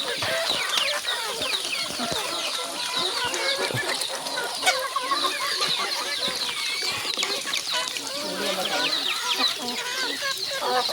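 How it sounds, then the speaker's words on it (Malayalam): Chickens and guinea fowl run about on a poultry farm, a busy chorus of clucks, squawks and chattering calls with some wing flapping, close and continuous, with brief speech mixed in. "എന്താ നമ്മുടെ ഗിനിക്കോഴികൾ ഇങ്ങനെ പാഞ്ഞ് കളിക്കുകയാണ്"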